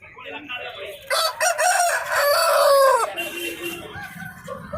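A rooster crows loudly nearby at a Sunday poultry market, one long drawn-out call over a background of outdoor noise and faint voices.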